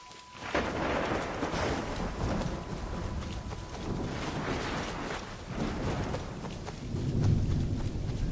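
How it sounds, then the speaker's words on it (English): Heavy rain pours with rumbling thunder in the Assassin's Creed 3 video game, a dense, continuous roar of downpour with deep swells, loud and without talk. "It's pouring. Would you just be doing your daily errands like it was nothing in that horrible downpour?"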